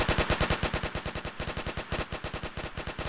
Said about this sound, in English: I think the LMG does more damage